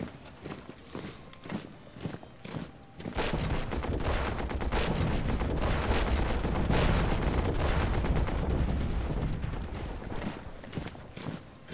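Bombing of Rome in the World War I strategy game Commander The Great War produces a sustained rumbling barrage of blasts and crackling fire lasting several seconds, loud and dense, then fading back to quieter clicks.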